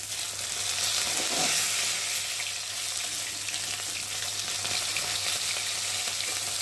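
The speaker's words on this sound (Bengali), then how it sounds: "মাছগুলো ভাজা হয়ে গেছে, একটু করে সুন্দর করে ভেজে নিয়েছি" Fish, a salted bhola fish, frying in hot oil in a pan, giving a steady, loud broadband sizzle that runs continuously throughout, with faint stirring and no talk.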